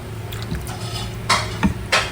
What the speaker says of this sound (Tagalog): Sandok na kita ng kanin.